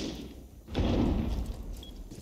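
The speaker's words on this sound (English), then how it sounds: "You got hit with a claymore, gang?" Claymore detonating in the video game Rainbow Six Siege, a single heavy muffled thud-like blast that holds as a dull rumble for over a second after a short quieter lead-in.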